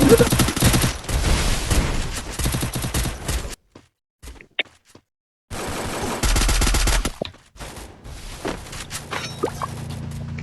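Rapid gunfire bursts in a mobile battle royale game, loud dense volleys at the start and again midway, separated by a short near-silent gap, with a few scattered shots and shouting players' voices toward the end.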